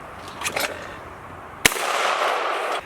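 A shotgun fires low brass shells at skeet outdoors, giving one sharp crack that trails off into a long, hissing decay, with a few fainter pops earlier.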